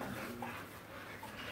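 A dog whimpers and pants softly amid steady background noise, brief faint whines rising over a continuous hiss.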